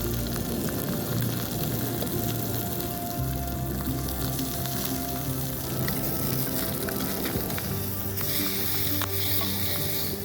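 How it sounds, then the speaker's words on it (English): Fresh caught fish fries in sizzling grease over a campsite fire, a loud continuous crackle and hiss with dense popping, steady throughout and with no talk. "So that grease is catching fire right there."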